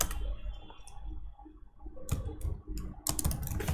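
Keys clack on a computer keyboard while code is written in a JavaScript tutorial, a few close clicks landing in short bursts toward the end over a low background hum.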